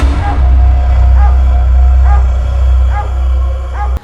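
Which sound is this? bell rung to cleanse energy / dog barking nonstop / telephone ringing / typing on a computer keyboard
dog barking nonstop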